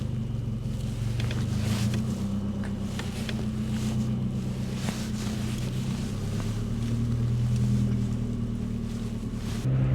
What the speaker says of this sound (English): Right, let's take this Saab on the road.